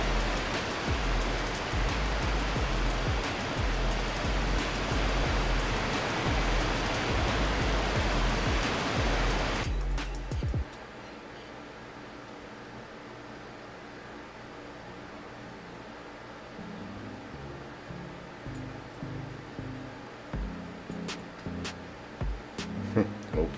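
Water rushes steadily into a cave pipe on a Farming Simulator 22 forestry logging map, a loud continuous roar for about ten seconds that abruptly cuts to a much quieter background with scattered faint sounds.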